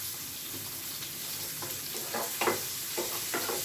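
Cumin seeds sizzle and crackle in hot oil with onions and green chillies in a pan, a continuous frying hiss broken by a few sharper pops, close and alone with no talk.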